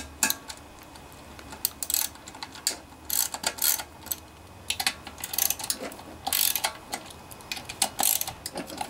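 A ratchet wrench clicks in short bursts while loosening 10 mm bolts on the valve cover of a Honda GC160 pressure washer engine, close and crisp with pauses between strokes.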